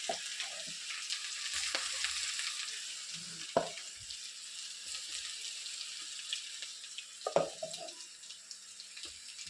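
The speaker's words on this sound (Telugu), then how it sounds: "ఇదేం కరివేపాకు ఒట్టిగా వేయించేసాను." Curry leaves, ginger and garlic fry in a pan with a steady, fairly quiet sizzle throughout, broken by a few sharp clinks of a utensil against the pan.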